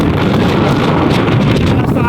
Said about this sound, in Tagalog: Lakas tong hangin eh.